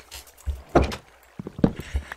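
A villager opening a wooden door in Minecraft: a few short clunking knocks and creaks spread over two seconds, close and moderately loud, with no talking.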